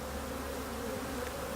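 Dense, steady buzzing of agitated honeybees filling the air during a hive inspection while two colonies are merged, loud and continuous with no talk.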